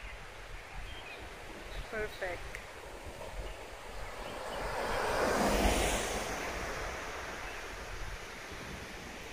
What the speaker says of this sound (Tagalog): Tapos ito naman yung dagat.